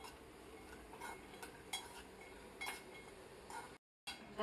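Ingredients for healthy ladu being stirred as they fry in a pan, soft scraping and light clinks of a spoon against metal at an irregular pace over a faint sizzle, quiet and close.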